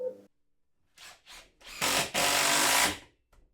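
Several short bursts of a power drill driving screws into wooden shelf brackets, close and fairly quiet, with brief pauses between the runs.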